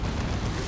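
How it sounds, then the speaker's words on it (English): Demolisher Cannon blast from Dawn of War 2: Retribution, a dense rumbling roar of explosion filling the whole short moment, loud and sustained without a clear onset or tail. "Demolisher Cannon going on those Noise Marines"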